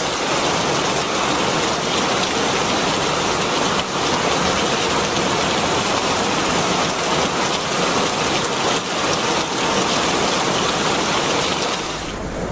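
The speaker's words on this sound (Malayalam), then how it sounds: "മൻസൂർ ഖാന്റെ വീട്ടില് എപ്പോഴും മഴ പെയ്യും" Artificial rain falling at a house in Malappuram, produced by a switch-operated system, a dense, steady rush of water drops spattering on surfaces, loud and continuous with no talking.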